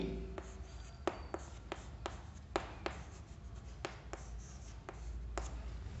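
Marker or chalk writing out trigonometry working on a board, with a steady scratching stroke broken by a dozen or so sharp taps as letters and symbols are finished, close and clear over faint room noise.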